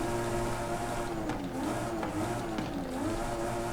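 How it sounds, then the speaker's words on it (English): A stock 2020 Toyota Supra engine is revved in Forza Horizon 5. The note rises and falls in repeated loud revs over a steady drone, with no talk. "you can actually rev the engine to see how the engine note changes when you're upgrading your car"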